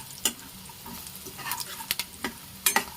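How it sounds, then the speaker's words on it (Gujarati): Peanuts roasting in a pan while being stirred: sparse, crisp scraping and rattling strokes over a faint low sizzle, a few sharper clicks standing out near the end. "આપણા સિંગના દાણા શેકાઈ જાય"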